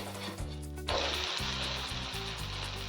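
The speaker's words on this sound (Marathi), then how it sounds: "थोडंसं बाजूने तेल सोडूया म्हणजे व्यवस्थित भाजून येईल" Thalipeeth frying in oil on a pan, a steady sizzle that swells louder as oil is added at the edge, with music playing underneath.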